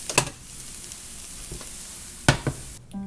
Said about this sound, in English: I'm letting that flour cook a little bit